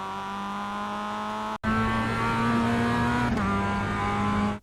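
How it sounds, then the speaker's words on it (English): A Mazda MX-5 race car in iRacing at Oran Park Raceway drones loudly as it accelerates out of a turn, engine pitch climbing steadily with a brief cut for a gear shift early on and another at the end. "You also want to be quite aggressive on the throttle because the turn is opening up towards the exit and gives you"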